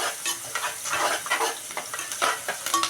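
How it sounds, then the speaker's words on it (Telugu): Onions frying in a pan while being stirred, a close sizzle broken by rhythmic scraping strokes of a spoon that come in quick repeated bursts, with no talking. "ఉల్లిపాయలు కొంచెం ఎర్రగా వేగనిచ్చి"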